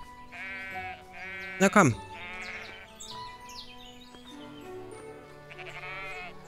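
A sheep bleats once loudly in the farm game Everdream Valley, a short wavering call amid calm background music, with someone speaking before and after.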